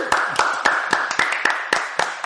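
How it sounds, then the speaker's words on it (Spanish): An audience applauds to welcome a guest onto an evening show, a short burst of rhythmic clapping that sounds like only a few pairs of hands, close and fairly loud. "Un fuerte aplauso y bienvenida"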